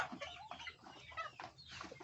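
Rhode Island Red chickens on a Thai farm clucking continuously in a busy, overlapping chorus, faint and steady throughout.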